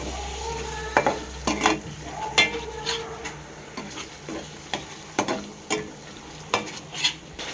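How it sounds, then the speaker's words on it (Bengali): Yogurt is stirred into frying spice masala in ghee and oil over a low flame, giving repeated scraping stirs against the pan at an uneven rhythm over a faint, steady sizzle, with no talking. "আমি দই দিয়ে দিয়েছি, মশলাটার সাথে ভালোভাবে মিশিয়ে নেব।"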